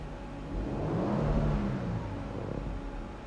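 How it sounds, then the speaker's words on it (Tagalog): A twin-turbo Toyota Land Cruiser engine revs up and holds a rising mid-pitched roar before easing off, close and fairly loud with no talking. "Toyota Land Cruiser twin turbo."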